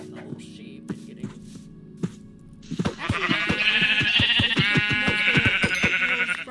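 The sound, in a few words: sheep bleating in Minecraft video game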